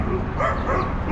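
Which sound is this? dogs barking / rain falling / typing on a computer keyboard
dogs barking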